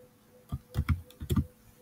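PHP code being typed on a computer keyboard, heard as a few close, distinct key clicks in small clusters against a quiet background.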